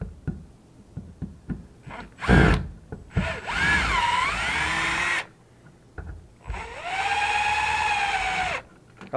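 Power nut driver fastening a thermostat wall plate during a Nest E install, with two sustained whirring runs that rise and settle in pitch, separated by clicks and knocks of handling, loud and close.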